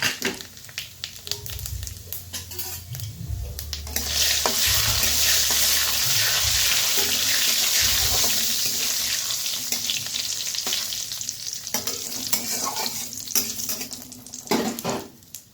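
Bay leaves, cumin seeds and whole garam masala hit hot oil with dried chilli, giving a loud, steady sizzle and crackle. Spoon stirring and pan scraping come up close, with a few low knocks early on.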